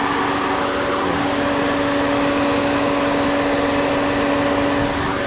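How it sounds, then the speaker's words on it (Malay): The modified high-speed radiator cooling fan of a Hyundai Matrix spins loudly and steadily up close, giving a constant whooshing drone with a faint electric hum beneath it and no talking. "Jadi kipas dah berpusing."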